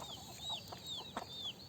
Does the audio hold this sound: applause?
no